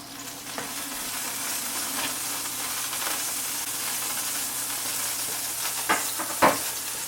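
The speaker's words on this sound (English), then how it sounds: "Be careful when adding the chicken to your boiling water." Chicken goes into a stock pot of boiling water, giving a steady, loud hiss and sizzle that runs throughout, with a few soft knocks and splashes near the end.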